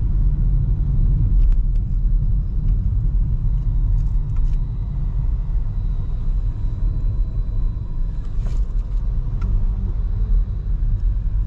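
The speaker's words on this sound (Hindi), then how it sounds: "यहाँ पे वैसे ही रश है गाड़ियों का।" Heavy car traffic fills a busy city street in Jazan, Saudi Arabia, with a constant loud rumble of passing vehicles and faint horn-like blips, heard from close range.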